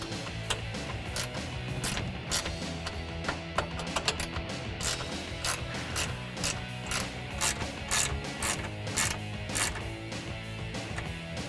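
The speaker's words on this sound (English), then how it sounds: "we're going to tighten them up with a 1/2 inch wrench" A 1/2 inch ratchet wrench tightens the clamps of an Extang eMax soft tri-fold tonneau cover on a 2015-2018 Ford F-150 bed, giving a continuous run of close, rapid ratcheting clicks and mechanical clatter.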